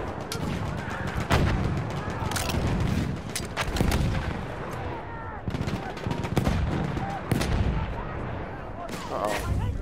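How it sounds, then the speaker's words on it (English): Machine gun fire in the Battlefield 1 video game: dense, loud bursts of rapid shots mixed with heavy booms of artillery, running continuously throughout. "Machine gun is alive."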